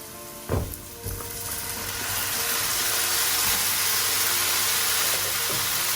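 Vegetables hit a hot pan already seasoned with turmeric powder, giving a sharp thump and a loud, steady sizzle that swells and holds, with a few clinks of stirring.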